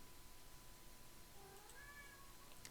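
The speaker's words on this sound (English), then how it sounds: "If you hear my cat, it's because she thinks it's treat time." A house cat meows faintly in the background of a quiet room, a couple of soft, rising mews heard at a distance beneath steady low hiss.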